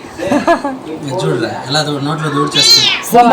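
A kitten meows several times in short, high cries, heard close while a person talks over it.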